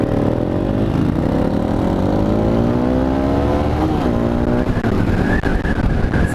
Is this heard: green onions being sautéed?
no